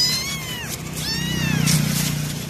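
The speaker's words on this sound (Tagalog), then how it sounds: "May napulot pala akong pusa mga kaibigan ito." A small stray cat gives several clear, rising and falling meows close by, with a faint low hum underneath.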